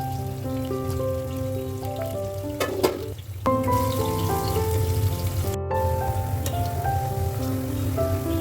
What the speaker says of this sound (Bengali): কড়াইতে তেল দিয়ে দিলাম, তারপর কিছু পেঁয়াজ কুচি, কাঁচামরিচ কুচি, এটাকে একটু ভেজে নেব লাল লাল করে